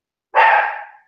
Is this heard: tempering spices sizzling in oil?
no